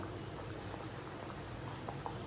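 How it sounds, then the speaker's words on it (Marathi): Water at a full rolling boil in a pot for masala rice, a steady, continuous bubbling and churning with no pauses, close and moderately quiet. "तर अशी पूर्ण उकळी आली ना"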